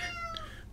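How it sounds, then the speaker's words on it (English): A house cat meows once, a clear drawn-out tonal cry near the mic that fades away, heard alone with no talking. "that's my cat"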